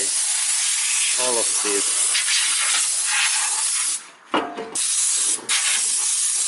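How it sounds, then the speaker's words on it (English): Compressed air blasts dirt out of a Toyota Camry automatic gearbox, making a loud continuous hiss with a few short breaks in the spray. A voice talks briefly over it. "here is my compressed air, and then carefully I throw away"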